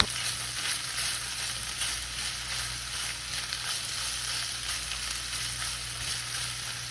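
Tomato paste sizzles in a skillet while cooking an old-fashioned beef and potato dish, a steady, even frying hiss that carries on alone throughout without talking.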